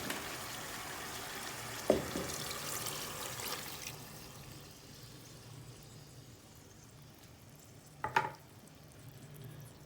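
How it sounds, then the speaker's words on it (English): Seasoned water poured into a pot of simmering curry chicken makes a quiet, soft sizzling wash, broken by two short clinks, with no talking. "I'm just going to pour in this seasoned water."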